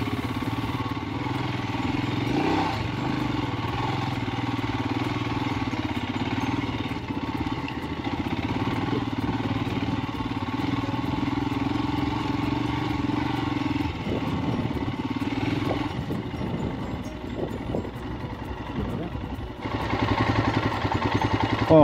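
A 2021 Royal Enfield Himalayan motorcycle rides off-road near Rio Grande, Tierra del Fuego, its single engine chugging steadily and close for a long stretch, with rattling clatter and slight load changes, and no talking.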